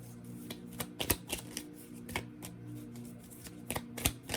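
Tarot cards are shuffled and flipped at close range, giving a string of sharp papery riffles and snaps that come in uneven bursts over a low steady hum.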